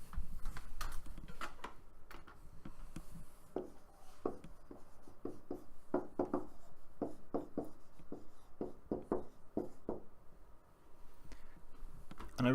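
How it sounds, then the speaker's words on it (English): Pen tapping and scratching across an interactive whiteboard in a classroom setting, a run of quick, light clicks and strokes, fairly faint over a steady room hiss. "I'm writing on the board"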